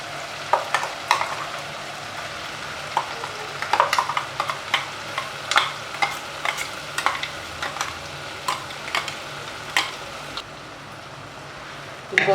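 Coriander paste fries in a pan for coriander rice, a soft continuous sizzle broken by regular sharp scrapes and clinks of a spoon stirring against the pan, fairly close.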